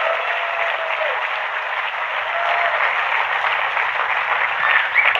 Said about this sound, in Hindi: ताली बजाओ तो अच्छे से बजाओ यार।